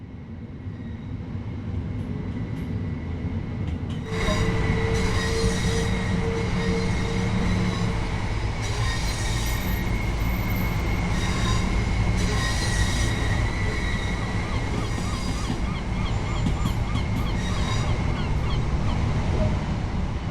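A train runs on rails on the East Coastway line in Train Sim World 2020, with continuous loud rumbling, clattering wheels and recurring squeals as it travels, and no talk.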